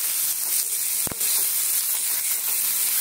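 Onions and tomatoes frying with turmeric- and salt-seasoned fish in a pan for chili fish produce a steady, close hissing sizzle, with one short utensil knock about a third of the way in.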